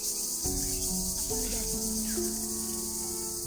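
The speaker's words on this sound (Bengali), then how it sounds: "ঝিঝি পোকাদের আওয়াজ শুনতে" Insects chirp in a dense, continuous high-pitched drone, crickets filling the night air deep in a jungle, with a few tonal calls drifting through.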